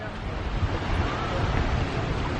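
Surf washing onto a beach in Nassau, Bahamas, heard as a dense, steady roar of waves blended with wind buffeting the microphone, loud and continuous throughout.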